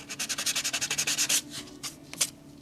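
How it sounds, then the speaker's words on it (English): Sandpaper rubbed by hand over a natural flaw on a wooden stair newel post, in a quick run of about a dozen rhythmic strokes, then a few slower scattered rubs, close and clear. "I'm just going to check that with some sandpaper just to make sure that it's not something that's on the wood"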